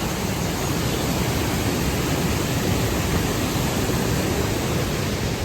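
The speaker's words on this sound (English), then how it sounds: "Nice little bridge to overlook the waterfall." Waterfall in Colorado seen from a small overlooking bridge, a steady, broadband rushing roar of falling water that stays even and continuous with no voices.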